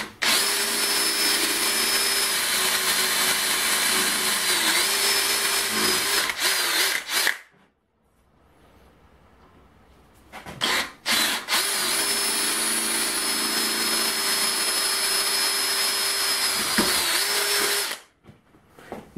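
An electric drill bores holes in a scrap of water pipe in two long, loud, steady whining runs of several seconds each, separated by a short quiet pause with a brief burst between them.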